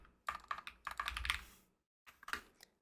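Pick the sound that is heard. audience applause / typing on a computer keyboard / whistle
typing on a computer keyboard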